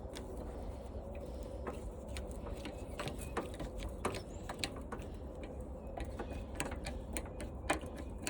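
A 1/4 socket ratchet removes bolts from an old washing machine, giving a steady run of quiet clicking pawl and metallic taps at close range, with no talking.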